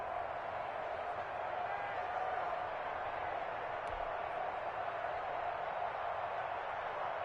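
Dense roar of a stadium crowd in a PS4 American football game, a steady wash of distant cheering and murmur with no clear peaks.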